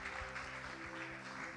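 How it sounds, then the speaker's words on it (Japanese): Church congregation applauding after a closing prayer, a steady wash of clapping hands that stays even throughout, with no voices standing out. "イエス様に感謝の拍手しましょう。"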